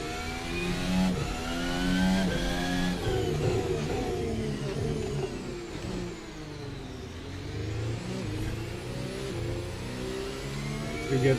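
Formula Alpha race car in a racing sim at Interlagos, its engine loud and continuous, revving upward through rising gear pitches with brief dips at shifts, steady and close throughout.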